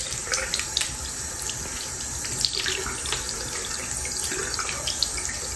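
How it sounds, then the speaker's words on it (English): Water runs steadily from a faucet into a sink while a doll's hair is washed, a continuous close splashing rush with small drips and knocks scattered through it. "Now we're gonna wash her hair."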